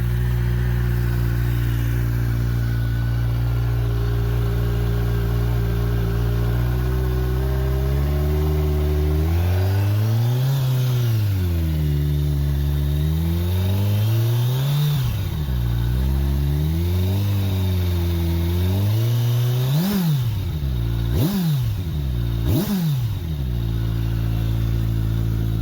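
A 2021 Kawasaki Ninja 1000SX fitted with a Yoshimura slip-on exhaust idles steadily, then revs up and down several times in repeated rising and falling sweeps, ending in quicker sharp blips; loud, close and alone, with a deep growl.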